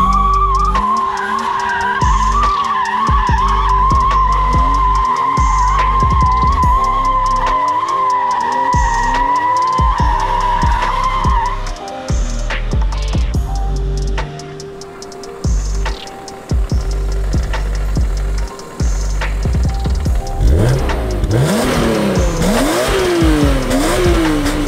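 A BMW E36 drifts, tires skidding and squealing in long wavering screeches over a roaring, revving engine that rises and falls, close and loud, with a burst of heavy wheelspin near the end.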